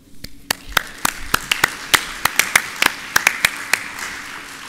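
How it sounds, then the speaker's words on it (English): A small audience at a grassland conference closing session claps sparsely, with separate hand claps scattered irregularly over a low room background and no voices. "So please give an applause"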